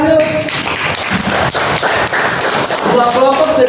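A classroom of students claps together for a few seconds, close and fairly loud uneven clapping with voices chattering underneath.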